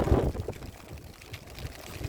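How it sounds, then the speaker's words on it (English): Wind buffets the microphone outdoors on Waterloo Beach, Liverpool, producing a rough, low rumbling gust that is strongest at the start and then settles into softer fluttering. "I'm sorry if you can't hear me because of the wind."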